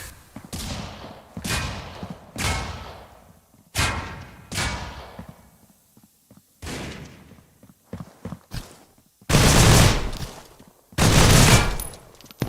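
Gunfire from the mobile shooter Critical Ops during a competitive playoff match: loud sharp shots and short bursts in irregular volleys, with heavy sustained firing toward the end and no talk.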